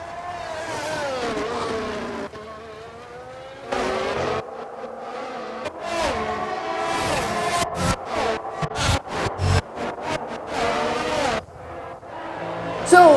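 F1 cars race at the Austrian Grand Prix in the F1 22 video game, with loud high-pitched engine whines rising and falling through gear changes, several sharp passes and a commentator speaking over the noise.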